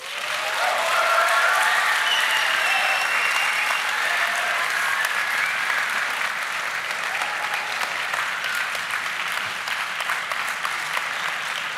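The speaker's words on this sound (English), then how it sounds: "The applause says it all." Steady, loud applause from an audience fills the room after a startup pitch at a competition finale, continuing evenly without talk.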